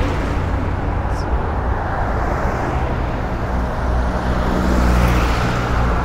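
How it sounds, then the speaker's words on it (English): Steady traffic rumble as cars roll up to the Dubai motor show, a broad continuous engine and road noise that swells slightly toward the end, with no speech. "Oh, there are more cars coming up."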